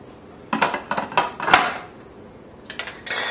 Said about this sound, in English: So we'll put the lid on